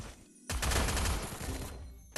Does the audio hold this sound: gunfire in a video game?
yes